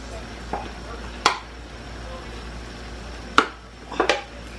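Peppers and onions are stirred in a frying pan over a steady low sizzle, with a few sharp scrapes and clinks of the utensil against the pan standing out clearly.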